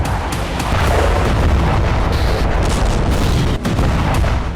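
A massive explosion at the Toropets weapons depot, heard as a sustained loud roaring blast with rolling booms and crackling bursts. No voices over it.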